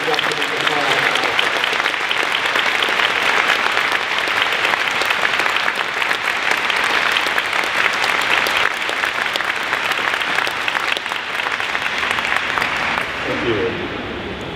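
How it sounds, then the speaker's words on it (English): Sustained applause from a large audience at a 2019 graduate celebration and awards ceremony, honoring students inducted into Pi Alpha Alpha; steady, dense clapping throughout that thins slightly at the very end. "Let's all join in giving these students a round of applause for being inducted into Pi Alpha Alpha."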